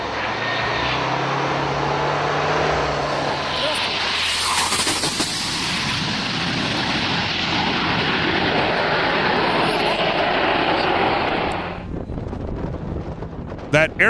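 Jet engine roar from an Aerosur Boeing 747 making a low pass with its landing gear retracted, a loud sustained rumble with wind buffeting that builds and holds before cutting off abruptly near the end.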